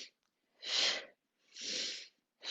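Vigorous sniffing breaths in a yoga breathing exercise: three strong, drawn-out nasal inhalations in a steady rhythm, close and clear, separated by short silences.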